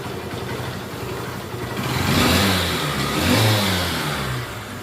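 A Honda Shine motorcycle engine runs steadily close by, its throttle blipped into two swelling revs before settling back toward idle, loud and alone.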